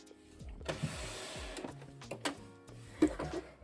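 A sewing machine runs a zigzag stitch close to the picot edge of lingerie elastic on a bralette, heard as short, close bursts of motor whir with brief stops between runs.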